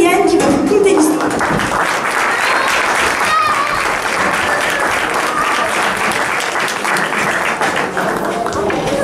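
An audience applauds for a storyteller at a children's Christmas tale performance, dense continuous clapping with voices mingled in.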